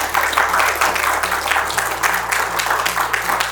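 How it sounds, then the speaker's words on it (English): A keynote audience at a GoodWorks Group event gives a hearty round of applause, close and sustained clapping with rhythmic surges, alone with no speech. "So I want to have a huge round of applause to everybody here."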